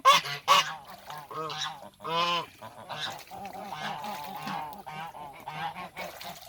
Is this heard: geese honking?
yes